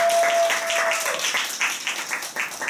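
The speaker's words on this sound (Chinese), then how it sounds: "大家来点掌声耶" Audience applause in an indoor talk session welcoming a student speaker sharing her radio dream; a moderate, close burst of clapping that thins slightly toward the end, with a brief steady tone near the start.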